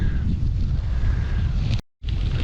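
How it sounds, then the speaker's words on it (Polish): Strong gusty south-easterly wind over autumn fields buffets the microphone in a loud, continuous roar, then cuts out abruptly into silence before gusting back. "Wieje porywisty wiatr gdzieś tam z południowego wschodu."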